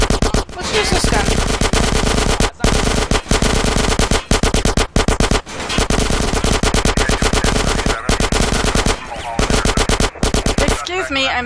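Rapid, loud automatic gunfire in the game GTA San Andreas, long bursts of shots firing almost without pause across the span, with brief gaps and a voice talking near the end.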